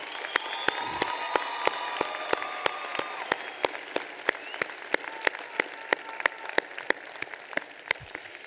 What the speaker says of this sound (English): Let's give our loved ones a well-deserved round of